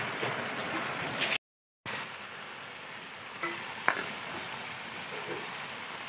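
Vegetable chorchori frying hard over a strongly burning stove gives a steady, dense sizzle throughout, broken by one short gap of silence and a few faint clinks near the end.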